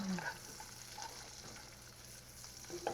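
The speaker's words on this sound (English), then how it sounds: "I'm just gonna get this sauteed in a little bit of butter" Ortega chilies sauteing in butter in a pan, a soft steady sizzle running throughout with faint stirring clicks near the start and end.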